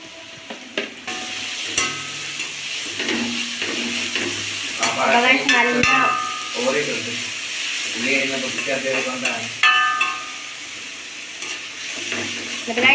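Upma mixture stir-frying and roasting in a pan, with steady sizzling and repeated scraping of a spoon, close and continuous, while someone talks over it.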